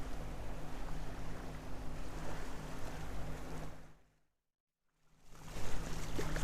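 Boat plowing through a cross current of about 5 knots on its port beam near the San Juan Channel: a continuous loud rush of water and wind, broken by a short total silence before the rushing resumes.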